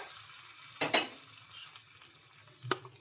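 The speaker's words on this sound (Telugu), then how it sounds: "ఇంకా చట్నీలోకి అయితే వేసుకుంటున్నాను పోపునైతే" Hot tempering poured into chutney gives two short sharp sizzles, the first near the middle and a second brief one toward the end, over a quiet kitchen background.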